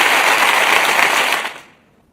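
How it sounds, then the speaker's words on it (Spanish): Dense audience applause fills the space for about a second and a half at a live show, then fades quickly to near silence. "Un aplauso a Uruguay."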